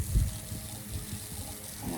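A garden hose sprays water onto winter green pea plants, giving a continuous soft hiss and patter. A low thump comes near the start.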